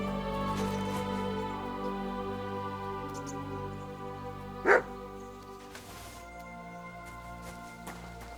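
A dog barks in the game Kingdom Come: Deliverance II, a single short bark from some distance over a steady musical background, with no talk.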